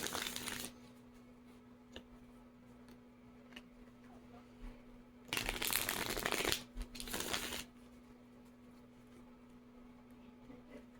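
Tarot cards are shuffled in two loud riffling bursts, separated by a short pause, over a quiet room with a faint steady hum.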